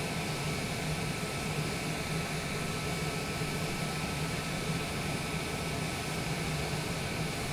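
A small aircraft taxiing toward the runway at Sheridan, Wyoming, heard from inside the cabin as a steady, loud, broadband engine and propeller drone with a faint low hum and no voices.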